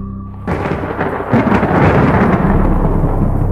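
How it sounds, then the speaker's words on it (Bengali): A deep rumble of thunder breaks in, followed by a dense, steady roar of heavy rain that fills the rest of the clip, loud and close. "হঠাৎ মেঘের গর্জন, ঝমঝমে বৃষ্টি নামলো।"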